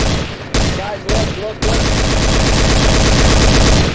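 Video game gunfire, with short bursts of rapid shots and a voice shouting between them, then a long unbroken stream of loud automatic fire.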